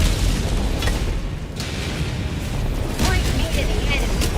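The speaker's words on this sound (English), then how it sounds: "there's a walking barrage in this nest" Walking barrage in Helldivers 2 pounding the ground as a steady wall of low, rumbling explosions, with sharper blasts near the end, while players talk over the din.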